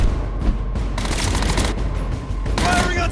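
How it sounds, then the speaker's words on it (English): Loud, close automatic gunfire in the video game Batman Arkham Origins, continuous rattling bursts with booming impacts filling the whole moment, game voices mixed in. "Firing on suspects!"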